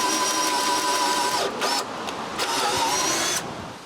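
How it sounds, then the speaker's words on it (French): A power drill bores a hole for a screw head in wood, a loud steady whine that briefly dips and stalls around the middle before spinning back up, then cuts off near the end. "Je perce donc un trou pour la tête de la vis."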